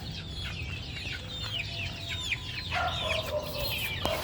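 Chicks and chickens in a backyard coop cluck and peep almost nonstop, with high chirps from small chicks over lower clucks from grown hens, close by and without any talk.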